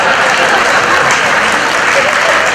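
Loud, sustained audience applause at a live Gujarati comedy show, a thick unbroken roar of many hands clapping close up, with faint crowd voices beneath.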